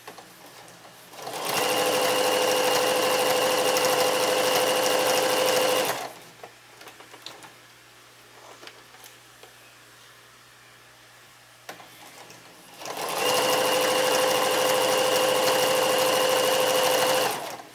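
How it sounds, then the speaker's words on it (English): Domestic sewing machine stitching fabric for pajama bottoms, two loud steady bursts of whirring stitching separated by a quieter pause with light handling noises, no talking. "Couple back stitches just to lock it in place."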